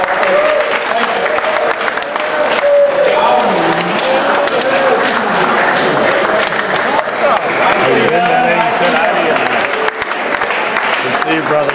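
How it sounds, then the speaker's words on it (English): An audience at an Austin awards ceremony applauds steadily, with clapping and crowd noise filling the whole stretch and voices mixed into the ovation. "give yourselves a huge round of applause"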